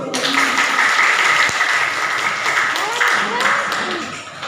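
A classroom of teacher trainees claps together in a lively, sustained burst, with scattered voices and cheers riding over the applause before it tapers off.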